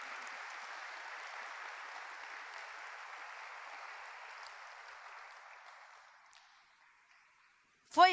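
Congregation applauding the Holy Spirit at a Portuguese-language church service, a soft, distant wash of clapping that gradually fades out, ending with a brief sharp sound.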